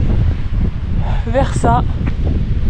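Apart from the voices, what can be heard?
wind on the Col de la Seigne mountain pass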